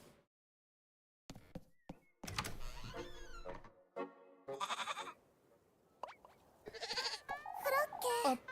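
Goat bleating in several separate cries, some loud and close, mixed with other bursts of sound and short gaps of silence.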